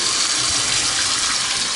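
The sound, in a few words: stainless steel kitchen sink faucet running water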